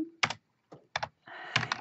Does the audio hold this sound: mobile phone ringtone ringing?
no